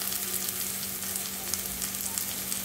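Tomato being sautéed in a pan for egg fried rice, a continuous crackling sizzle close by with light stirring, over a faint steady background hum.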